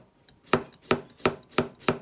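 A knife chops food on a cutting board while making a Japanese-style potato salad, five crisp evenly spaced thuds about a third of a second apart, close and clear with no talking.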